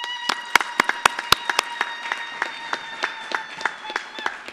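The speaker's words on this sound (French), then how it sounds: "Mettez-vous debout qu'on vous acclame un tout petit peu" Audience applause at an international colloquium as a professor stands to be acknowledged, a room of hands clapping steadily, with a few sharp nearby claps standing out over faint murmuring.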